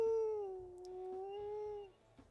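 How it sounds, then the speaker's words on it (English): Wolf howl in the video game WolfQuest: one long, loud, wavering howl that holds steady for about two seconds, then fades, with a soft game ambience beneath it. "Or listen to this howl."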